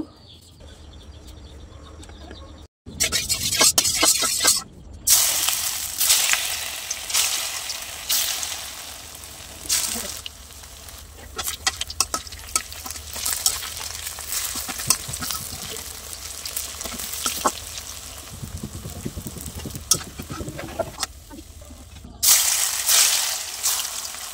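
Pumpkin leaf fritters (kumro patar bora) frying in hot oil in a home kitchen, a steady crackling sizzle with occasional stirring and scraping, a brief silent gap near the start, no talking.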